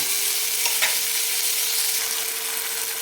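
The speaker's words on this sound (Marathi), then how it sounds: "गावरान टोमॅटो घ्यायचे तर तीन आहेत चांगल्या मध्यम आकाराचे आणि याला एक छान परतून घ्यायचे" Three medium-sized country tomatoes sautéing in a pan for a Maharashtrian tomato chutney give a steady, close hiss of frying with a faint scrape of stirring early on, and no one talks.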